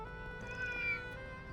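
A single short cat meow from the video game Trails through Daybreak, fairly faint, heard over a low background music bed.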